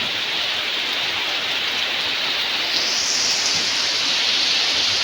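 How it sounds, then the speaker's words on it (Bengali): Rain falls steadily on a tin roof, a dense, even hiss of drops that holds at a constant loudness throughout, with no voices. "যখন টিনের উপরে বৃষ্টিটা পড়ে, অনেক সুন্দর লাগছে শব্দগুলো শুনতে"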